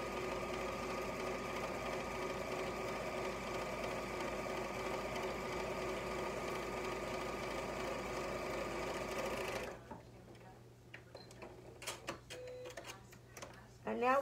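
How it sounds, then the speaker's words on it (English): A sewing machine runs steadily at a constant hum as it stitches a quarter inch seam along the sides of a pillowcase. The motor stops near the end, leaving a few clicks and small handling noises. "sew your quarter inch seam all the way on the two sides"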